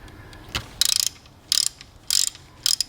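A ratchet tightens the bolts on a Subaru A/C belt tensioner in four quick bursts of rapid clicking, separated by short pauses, heard close up.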